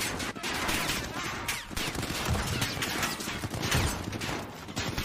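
Gunfire in Call of Duty: Modern Warfare, with rapid bursts of automatic shots and crackling fire in a dense, loud barrage that runs through the whole stretch.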